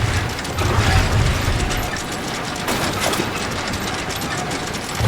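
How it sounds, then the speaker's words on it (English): Heavy mechanical scraping and rattling as a cannon is dragged loose in the Guardians of the Galaxy video game, a dense continuous grind with metallic clanks, loudest early on. "Drax, think you can drag this cannon out?"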